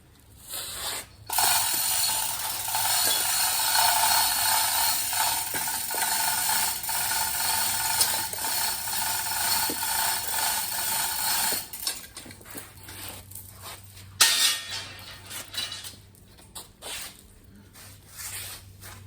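Jack raising a vehicle to inspect a bad tire, a long steady mechanical ratcheting hiss close by that runs for about ten seconds, followed by scattered clicks and clunks.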